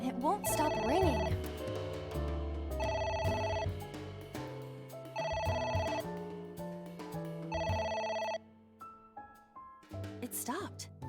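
Within AI: The Somnium Files, a telephone rings four times at an even pace, each burst loud and trilling over game music, then falls silent while a voice and other game sounds continue.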